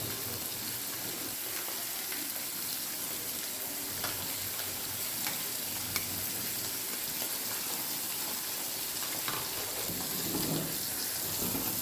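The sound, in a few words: fish frying in oil in a pan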